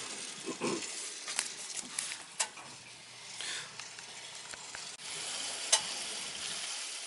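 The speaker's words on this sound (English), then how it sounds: "You can hear the air coming now." Air rushes out of a boiler's relief valve in a broad, uneven hiss, with crackling bursts and surges that swell and fade over several seconds before a steadier rush sets in.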